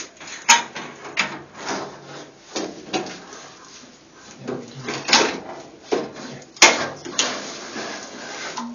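A JetStor 3U 16-bay storage subsystem is lifted and slid along server rack middle rails, giving close, intermittent metallic scrapes, rubs and soft clunks as it moves in stages.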